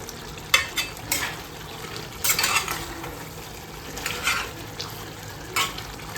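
Chicken being dry-fried into kosha in a pan with no water added, stirred with repeated scraping strokes over a continuous sizzle, close and moderately loud with an irregular rhythm and no talking.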